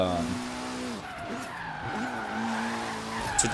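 A Toyota Evo IX in Forza Horizon 3 drifts sideways with its tires squealing in wavering, rising and falling tones over a low engine drone. The sound is close and steady for a few seconds.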